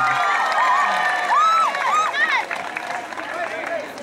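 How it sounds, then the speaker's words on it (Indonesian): Crowd applause and cheering at a police award ceremony for a record-setting tahu aci serving in Tegal, a lively mix of clapping, shouts and children's voices, with speech over it. "Tepuk tangan yang paling meriah."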